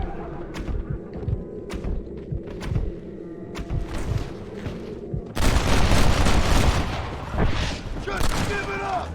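Video-game gunfire in a Red Dead Redemption shootout: scattered sharp shots and thumps at first, then a dense, loud volley of overlapping gunfire and booms takes over midway, with some voices underneath.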